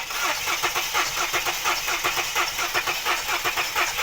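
A Ford BA Falcon engine cranks over on the starter, a loud, fast, even chugging rhythm that carries on without a break and never catches.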